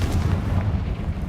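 A Confringo spell explosion in Hogwarts Legacy, a loud, low, rumbling blast that fills the short moment with heavy booming energy.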